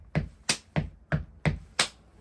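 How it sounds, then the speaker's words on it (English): Six crisp percussive hits of a stomp-and-clap beat, evenly spaced at about a third of a second apart, close and dry with no voices. "Two things, a stomp and a clap"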